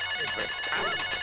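A phone ringtone chimes in a short, bright electronic melody, with a faint voice in the background.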